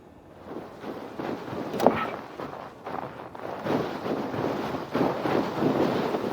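Wind gusts ahead of a storm in Assassin's Creed Valhalla, a steady broadband rush with swelling gusts that grow stronger toward the end, no talking.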